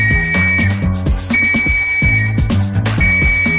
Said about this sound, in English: Blowing the whistle on lawbreakers and traffic offenders is an ear-splitting ritual.